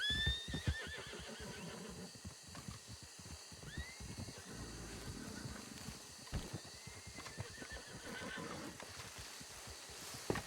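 A horse in a video game whinnies in several rising, shrill bursts over a busy background of clopping and clatter, fairly close and loud.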